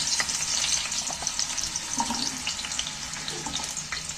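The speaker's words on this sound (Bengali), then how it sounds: "তেলটা গরম হয়ে এসছে এখানে আমি দুটো মাঝারি সাইজে দুটো আলু কেটে নিয়েছি দুটো আলু কেটে নিয়েছি আলুগুলো তেলের মধ্যে তুলে দিচ্ছি" Two medium-size cut potatoes fry in hot oil, giving a steady, fairly soft bubbling sizzle with scattered crackles and pops throughout, heard alone.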